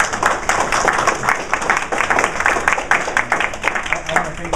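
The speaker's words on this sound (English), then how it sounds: "Can everybody please give them a round of applause?" A class bursts into steady, moderately loud clapping for presenters, a continuous patter of many hands with faint voices underneath.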